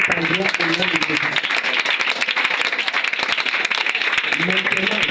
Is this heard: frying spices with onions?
no